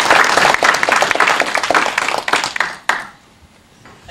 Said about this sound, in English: So can I have one more round of applause for our sponsors?